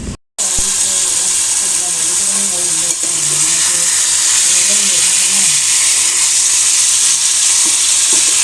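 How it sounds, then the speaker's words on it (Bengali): Chicken pieces sizzle loudly in a home kitchen pan while being stirred and browned, a dense, steady frying hiss with scraping stirs after a brief silence at the start. "মুরগিটা দিয়ে দিলাম আমি, আর এখন এটাতে একটু ভালো করে ভাজা ভাজা করব।"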